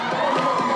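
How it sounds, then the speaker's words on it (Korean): Audience at an indoor theatre festival performance in Chuncheon cheering and shouting, a brief loud burst of crowd noise. "시민들은 더 뜨거운 박수와 환호를 보내주었는데요."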